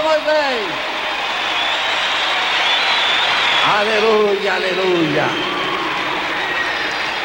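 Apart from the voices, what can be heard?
audience applause for the pastor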